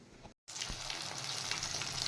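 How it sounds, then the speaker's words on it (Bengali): Live rohu fish frying in a pan, a steady loud sizzle that starts after a brief moment of silence and continues evenly, close up with no speech. "জ্যান্ত মাছগুলো ভেজে নিচ্ছি"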